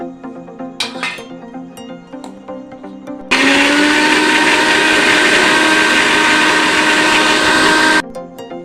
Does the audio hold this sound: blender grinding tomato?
yes